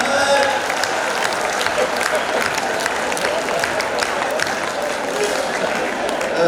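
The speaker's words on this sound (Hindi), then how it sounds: "ताली आनी भी है आपकी यार।" Steady applause from an audience at a Hindi comedy poetry show, dense and continuous throughout, with a crowd murmur beneath it.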